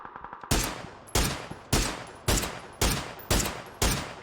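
Gunfire aimed at vehicle tires in the PUBG battle royale game during a pro scrim: seven loud, evenly spaced single shots about every half second, each a sharp crack with a quick decay.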